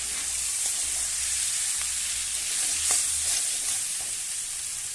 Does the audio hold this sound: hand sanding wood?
no